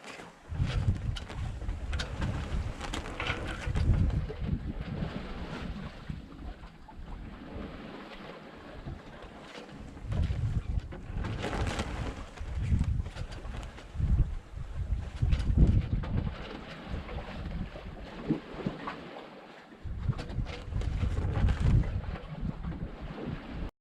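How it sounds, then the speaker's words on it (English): A Contessa 26 sailboat sails on a broad reach in about 10 knots of wind at almost 5 knots, with gusting wind buffeting the microphone and the rushing wash of water along the hull in uneven surges. "The wind is about 10 knots, and we are going along at almost 5 knots on a broad reach."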